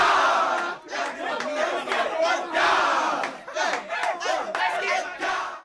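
A packed high school football crowd at a Cibolo Steele versus San Antonio Brennan game roars and yells, loud surging shouts rising and dipping in waves with scattered cheers.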